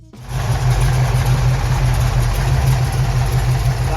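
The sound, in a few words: Dodge 440 six-pack V8 engine running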